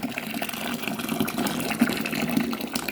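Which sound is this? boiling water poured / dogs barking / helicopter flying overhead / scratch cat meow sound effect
boiling water poured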